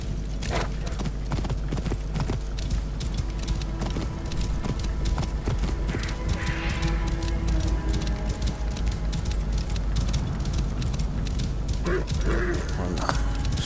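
Horse hooves clip-clop in a steady, continuous gallop in Assassin's Creed Origins, ridden across ancient Egypt toward the pyramids, with the rhythm running loud and unbroken throughout.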